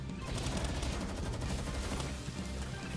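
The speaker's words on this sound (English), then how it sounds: "There goes all my bullets." Rapid assault rifle fire in a video game, a dense continuous burst of shots running loud and close throughout with no pauses.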